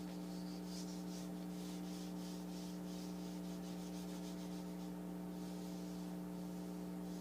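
Paper rubbed by hand over a painted aluminum foil print gives faint, repeated brushing strokes over a steady low electrical hum.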